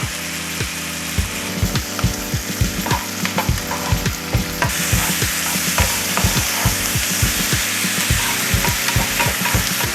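Corn fries in butter over fairly high heat, sizzling steadily in a hot pan, with frequent clicking and scraping as it is stirred throughout.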